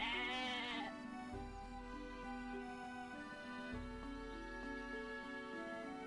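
A goat in the video game Atelier Ryza lets out a clear, wavering bleat up close, followed by game music.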